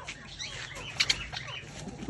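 A pigeon grapples with a partridge, wings flapping in a few quick, faint bursts near the middle, over a low background hiss with no speech.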